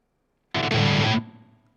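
An electric guitar played through an IK Multimedia TONEX pedal with its reverb switched, strumming one brief, loud, distorted chord that cuts off and leaves a fading reverb tail.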